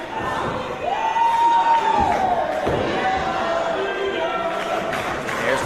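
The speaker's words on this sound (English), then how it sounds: "that little area right there behind us is just yelling Allday as loud as they can" An indoor wrestling crowd yells and chants for a wrestler at a Reality of Wrestling match, a dense roar of voices with a rising shout and a few thuds from the ring.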